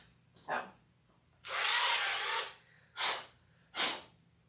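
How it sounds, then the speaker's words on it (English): A power drill with a bit drills into material and backs out, one longer whirring run between short separate bursts, close and fairly loud with quiet gaps. "make sure when you are using a drill bit like this, you are drilling in and drilling back out"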